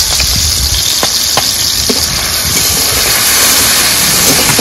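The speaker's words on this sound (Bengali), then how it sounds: "টমেটো ভালো করে কষে নিলাম" Tomatoes frying in oil in a pan for mustard eggplant curry, a loud steady sizzling hiss with a few faint clinks of stirring, no talking.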